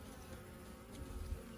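Honey bees hum steadily around an opened homestead hive, a dense, even drone of many insects close by with no speech.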